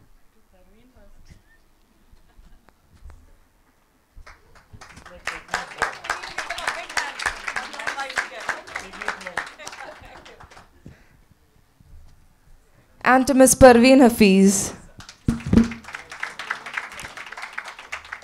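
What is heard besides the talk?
audience applause for moderators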